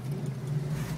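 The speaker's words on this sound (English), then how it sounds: "I'm going to slow down to almost a crawl so we can go through all three gears" A 1966 Ford Mustang coupe rolls along at a crawl with a steady low engine hum and road drone, fairly close and continuous, with a brief brighter swell near the end.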